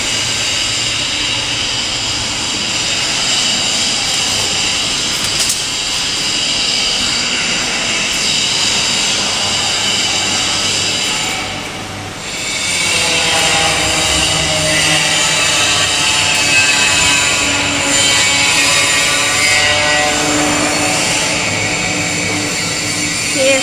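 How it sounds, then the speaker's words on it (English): A cable tray roll forming machine on a production line that makes trays up to 300 mm wide runs in a loud, steady mechanical roar with a constant whine, briefly dipping midway before carrying on. "Here's the forming machine."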